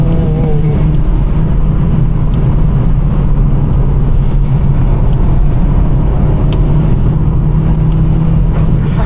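A small Corsa car engine drones steadily and loudly, a constant buzzing hum as the car drives along without pause.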